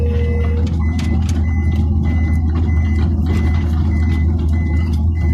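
Repeated reversing beeps from a truck at a quarry backfill site, evenly spaced over a loud steady diesel engine rumble, with no one talking.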